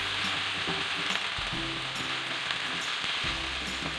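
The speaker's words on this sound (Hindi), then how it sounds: "अब इसमें मैं डाल रही हूँ कीमा मैंने लिया है 500 ग्राम, वो भी मैं इसमें डाल रही हूँ और इसको फ्राई कर लेना है" Keema, 500 grams of minced meat, fries in a pan, a steady loud sizzle with intermittent scraping and stirring clinks throughout.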